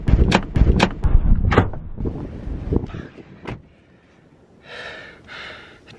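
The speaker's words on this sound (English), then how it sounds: "The door nearly just flew off this car." A car door flung open by strong wind at the Little Musselrow Bay wind farm in northeast Tasmania: sharp knocks and thuds up front, then gusty wind buffeting and breathy noises that fade into quieter rustling.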